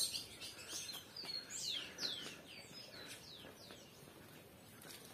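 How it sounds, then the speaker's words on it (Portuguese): Small birds sing and chirp in the countryside, a steady run of quick whistled tweets and rising calls, fairly near and moderately loud, over a soft airy background hum. "escutar esses passarinhos"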